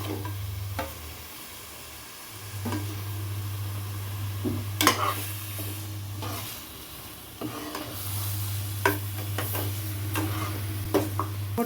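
Ginger garlic paste frying in a pan for mutton curry, a soft sizzle under intermittent stirring scrapes and clinks, with a low steady hum underneath and no talking.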